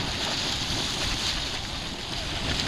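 A hot-spring geyser erupts, with steam and water shooting up in a steady loud roaring hiss that rushes continuously like strong wind or surf.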